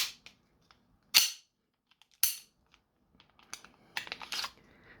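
An airsoft gun clicks and then fires: two sharp, loud cracks about a second apart, followed by a run of lighter clicking and rattling handling sounds close by.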